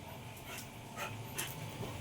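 A large wet dog pants softly after a bath, its quick breaths interrupted by faint whimpers, close by and quiet in a calm room.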